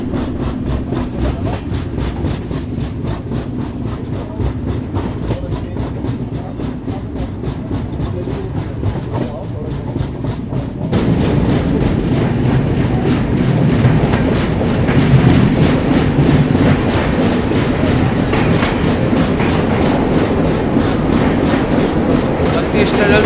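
The 12445 Uttar Sampark Kranti train rolls toward Shri Mata Vaishno Devi Katra station near a tunnel, with a steady heavy rumble and rhythmic wheel clatter that grows louder and fuller partway through.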